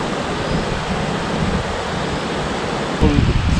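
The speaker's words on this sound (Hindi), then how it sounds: "कश्मीर ग्रेट लेक्स में बीच में ये झरना" A waterfall on the Kashmir Great Lakes trek gives a steady, close rush of falling water, a dense roar that swells slightly near the end.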